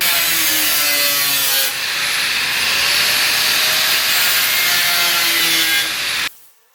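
A power cutting tool slices through the sheet-metal fender of a 2025 Toyota 4Runner, a loud harsh continuous grinding rasp that shifts pitch partway through, then stops abruptly.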